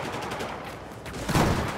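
Gunfire in Battlefield 4 multiplayer, a rough burst of shots from a light SMG with a louder crack near the end, heard over constant game noise.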